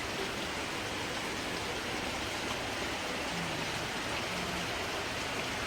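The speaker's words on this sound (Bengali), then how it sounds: "এই যে ফুলের ওপর বৃষ্টি পড়ছে দেখতে সুন্দর লাগছে" Steady rain falls outdoors on flowers and plants, a dense, even hiss of drops that holds constant throughout, close and without voices.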